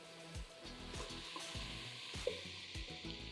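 Tomato paste cooks in a pan over reduced heat, giving a soft, quiet sizzle with intermittent scraping stir strokes close by.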